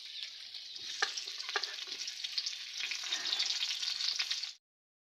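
Onions frying with chicken in a pan for a home-cooked chicken biryani, a bright close sizzle with a few sharp stirring clacks, rising slightly before cutting off abruptly.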